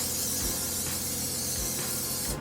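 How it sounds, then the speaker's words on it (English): Coconut oil spray hisses from a can onto a loaf pan, a close, continuous airy spray that runs steadily for about two and a half seconds before cutting off. "And for that, I'm gonna use a coconut oil spray."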